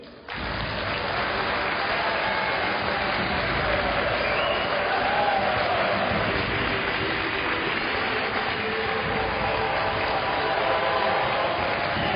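Crowd applause welcoming the two finalists at a lawn bowls final of the Welsh International Open, a loud and steady wash of clapping that begins abruptly and holds for the whole stretch, with no talk over it.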